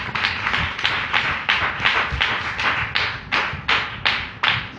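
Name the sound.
congregation clapping hands loudly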